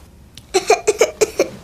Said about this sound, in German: Husten, also gute Besserung.